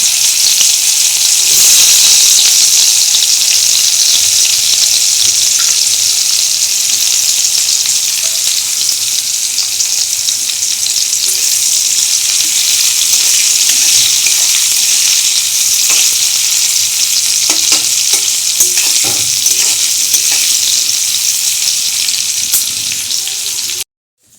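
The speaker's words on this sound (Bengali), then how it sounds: "তারপরে আমি পেঁয়াজগুলো দিয়ে আমি ভালো করে কষতে থাকবো" Onions sizzle loudly in a pan alongside already fried potatoes for a thin green-chilli meat curry, a dense steady hiss with occasional stirring scrapes close by, and no voices.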